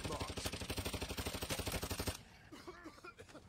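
Rapid automatic gunfire in a shooter video game, a fast steady burst of loud shots lasting about two seconds, then a quieter stretch of game sounds and scattered noise.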